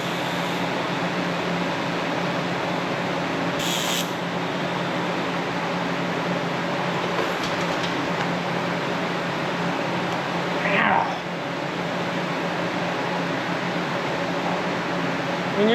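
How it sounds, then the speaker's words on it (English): A steady, even hiss of TIG welding on steel with thin MIG wire fed as filler runs nearly unbroken, with a couple of brief clicks and shifts partway through. "To weld this stuff, I'm gonna TIG weld it"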